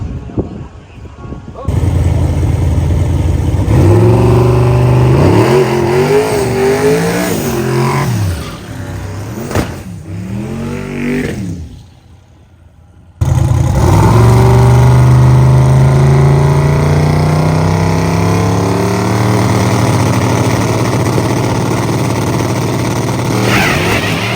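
A radial championship drag race car makes a test pass on a hot day, its engine revving loud and rising, cutting out briefly, then roaring again in a long sustained pull, with talk faintly underneath.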